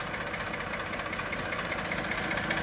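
A double-clutch tractor engine runs steadily at idle, a close, constant low rumble with no other sounds.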